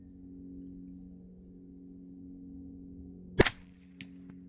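A single suppressed subsonic 9mm shot, 140-grain full metal jacket, from an AR with a 16-inch barrel and R9 silencer: one sharp close crack over a steady low hum, followed by a faint brief tick.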